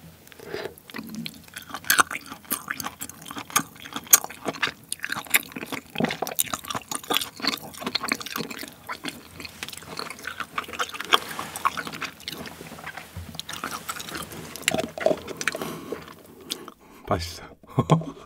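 Someone eats spicy marinated cockles dressed with Cheongyang chili, with close, wet chewing and biting sounds repeating irregularly throughout, sometimes under soft murmured talk.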